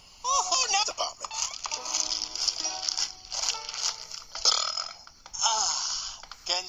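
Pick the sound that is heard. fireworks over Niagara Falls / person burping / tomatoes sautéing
person burping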